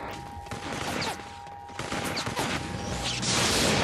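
Gunfire rattles in the video game Infamous 2, a burst of shots with mechanical clicks and tones over game background noise, moderately loud.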